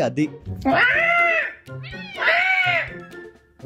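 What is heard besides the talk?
cat crying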